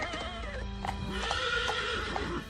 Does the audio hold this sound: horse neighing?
yes